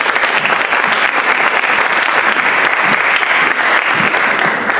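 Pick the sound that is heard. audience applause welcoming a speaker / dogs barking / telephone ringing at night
audience applause welcoming a speaker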